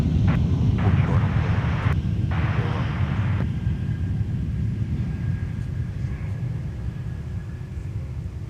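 An airplane rolls down a long runway at MSP airport, producing a loud, continuous broadband roar and rumble with some wind buffeting. It slowly eases off toward the end.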